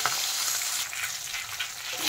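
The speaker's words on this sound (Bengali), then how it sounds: "মাছের মাথাটা কিন্তু ভালো করে ভেজে নিতে হবে।" Fish heads fry in hot oil in a pan, a close, bright steady sizzle with fine crackling throughout and no talking.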